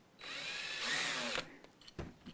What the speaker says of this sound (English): sometimes a little countersink can also help, just to get it started right